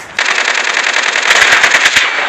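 Automatic gunfire rattles in the mobile shooter game Call of Duty Mobile, a loud continuous burst of rapid shots lasting about two seconds, close and without speech.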